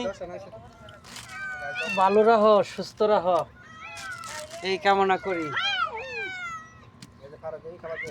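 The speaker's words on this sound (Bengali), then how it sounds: "দেখেন এই যে কত বিড়াল" Several cats meow close by in long, wailing, pitch-bending cries that overlap and follow one after another, while someone talks over them.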